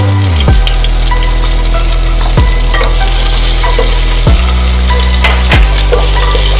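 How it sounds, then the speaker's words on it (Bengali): Chopped onions fry loudly in hot oil with whole cumin, cinnamon, cloves, cardamom and bay leaf, a constant close crackling sizzle broken by a few scraping stirs. "ফোড়ন ভাজা হয়ে গেছে, এবার দিয়ে দিলাম পেঁয়াজ কুচি"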